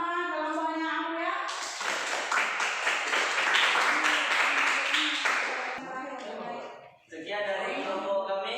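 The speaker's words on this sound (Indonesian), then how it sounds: "kasih dulu aplaus sama kelompoknya aku ya" A classroom audience gives a presenting group a burst of brisk, scattered clapping lasting a few seconds, with speaking voices heard before and after it.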